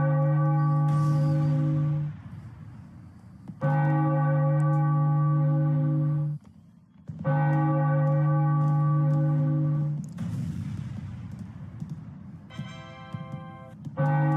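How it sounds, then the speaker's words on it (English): A video-game baseball broadcast plays a pealing church-style bell celebrating a Phillies win, loud, sustained tolling strikes in several bursts with brief gaps, alone without talk. "Ring the bell, Philadelphia."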